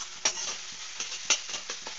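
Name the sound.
egg being fried and stirred in a pan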